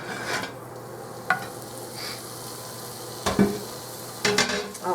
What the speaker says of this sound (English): Bring this back over and put the bacon in.